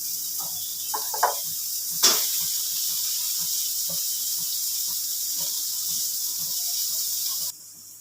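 Minced chicken added to a pan with softened onion gives a steady high hiss and sizzle, with a few soft clinks and stirring knocks that stop abruptly near the end.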